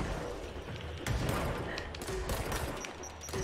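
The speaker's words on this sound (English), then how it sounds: "Stop throwing grenades at me!" Grenade blasts in the action video game Control, a rapid cluster of sharp thumping bursts and gunfire-like pops in quick succession, fairly close and dense.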